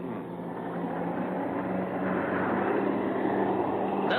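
Jet planes roar overhead in a 1966 monster film, a continuous broad engine rumble with a steady hum that swells slightly louder toward the end, heard alone without talk.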